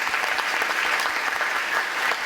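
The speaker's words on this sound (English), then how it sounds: "So let's give Bates & Hewitt a round of applause" Audience at a recognition ceremony clapping steadily, a dense, even round of applause from a room full of people.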